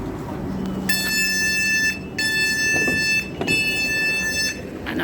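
Inside a London train carriage, a repeated electronic tone sounds three times in sustained bursts over a steady low rumble of the train.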